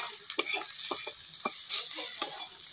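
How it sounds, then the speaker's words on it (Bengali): Chili powder, turmeric and cumin powder sizzle as they are stir-fried in a pan for a bean curry, with a steady frying hiss and several sharp scraping strokes of a spatula close by. "এই সমস্ত মশলাগুলো আমি এর মধ্যে দিয়ে দেবো, দিয়ে খুব ভালোভাবে কষিয়ে নেব।"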